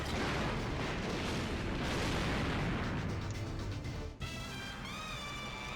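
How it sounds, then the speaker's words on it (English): Fireworks burst in a James Bond 007: Agent Under Fire video game, a dense loud run of booming, crackling explosions that cuts off abruptly near the end, followed by a short ringing tonal tail. "Fireworks."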